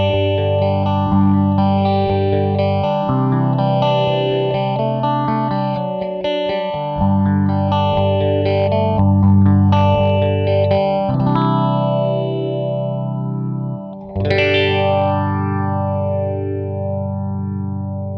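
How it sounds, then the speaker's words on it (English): Guitar played through a phaser on a Source Audio Orbital Modulator pedal, with chords and notes sweeping in a slow, rhythmic swirl; loud and sustained, with no talking. "And then I'll dial in a phaser on the Source Audio."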